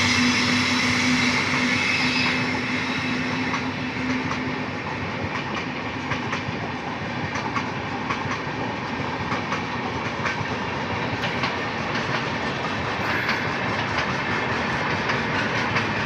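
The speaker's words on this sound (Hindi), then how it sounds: "तो मोहाली स्टेशन से एक्सेलरेट कर रही है" A diverted Jan Sewa passenger train of general coaches accelerates out of Mohali station on the Ludhiana–Ambala route, a steady loud rumble with rhythmic clickety-clack of wheels over rail joints throughout, with no talk.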